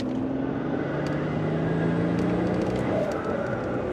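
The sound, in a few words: twin-turbo V12 Mercedes with prototype intake, turbos spooling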